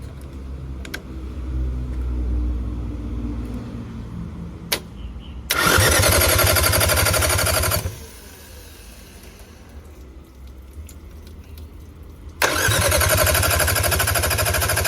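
A 4DR5 diesel engine fitted with a muffler runs in two loud, sustained bursts of a few seconds each, separated by quieter stretches of a low rumble and faint background noise.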